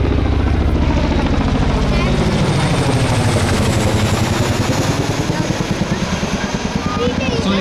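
A CH-47D Chinook tandem-rotor helicopter makes a loud high-speed pass, its heavy rhythmic rotor thumping steady throughout and swelling slightly as it goes by, with some voices audible underneath.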